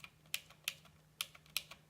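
Blue switches on a Motospeed CK104 mechanical keyboard click sharply, with four bright, distinct clicks and fainter in-between taps, close and alone in a quiet room.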